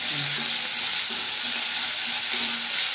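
Onions, curry leaves and coriander sautéing in a pan, a loud, steady hissing sizzle held close and unbroken, with faint stirring underneath.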